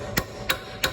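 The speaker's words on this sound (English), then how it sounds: "I'm gonna go ahead and just finish hammering in the last one" Steering rack bushing hammered into a Lexus IS300, three sharp metallic blows evenly spaced about a third of a second apart, close and loud, with no talk.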